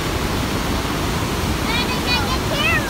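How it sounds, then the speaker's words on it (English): A waterfall roars as a steady broadband rush, with faint high voices of children chirping briefly over the constant water noise. "here's the second waterfall"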